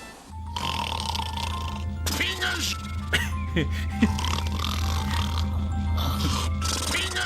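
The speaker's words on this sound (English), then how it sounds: "Wow, he's just snoring" A game character, the Pingus monster, snoring in deep, grunting, snorting pulls over a steady low hum, with a person speaking briefly in the clip.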